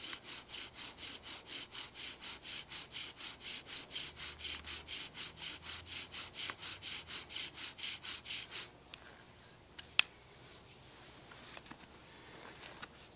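A wooden bow drill spindle is bowed rapidly into a wooden fireboard, making a steady rhythmic back-and-forth rasping stroke for about nine seconds before it stops and a single knock sounds.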